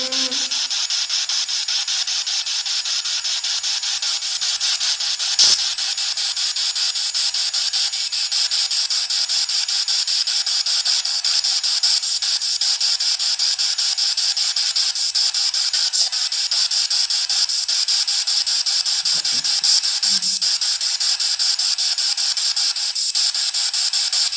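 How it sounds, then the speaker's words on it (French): Steady crackling hiss drones throughout a paranormal investigation, loud and unbroken with a sharp click near the start and faint low murmurs later, no clear speech. "Il y a comme un grésillement ici."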